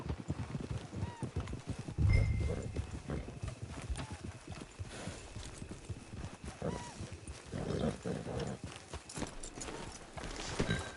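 Horse hooves clip-clopping in the Red Dead Redemption 2 video game, an irregular walking rhythm of soft thuds with a brief snort, fairly quiet against ambient game sound, with a voice speaking at times.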